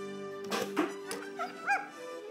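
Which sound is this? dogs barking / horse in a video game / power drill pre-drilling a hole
dogs barking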